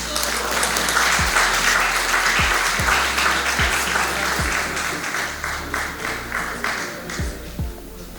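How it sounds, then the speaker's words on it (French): Steady applause from an audience at an official launch event fills the whole stretch, dense and sustained, with a few low thumps underneath. "Applaudissez s'il vous plaît."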